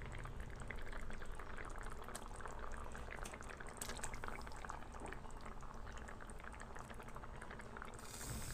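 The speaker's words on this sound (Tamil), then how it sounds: "இது நல்லா கொதிக்கிட்டோம்" A pot of Tamil fish curry (meen kulambu) bubbles at a steady rolling boil, a dense, continuous gurgling and popping of thick liquid, close and moderately loud, with no one speaking.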